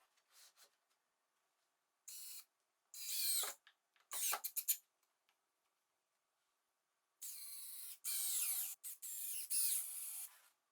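A power driver sends screws into a plywood stop block in short separate bursts, a few brief whirs early on, then a longer run of several close, sharp bursts near the end with silence between.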